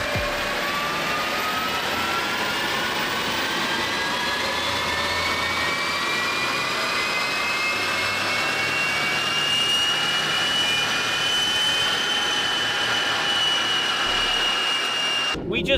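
A BMW E90 diesel engine revs hard during a dyno measurement run, a loud continuous roar whose pitch climbs steadily and holds high for the whole stretch before cutting off abruptly at the end.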